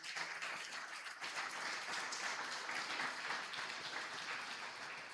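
A church congregation applauds continuously, a dense, even wash of many hands clapping at moderate distance for several seconds.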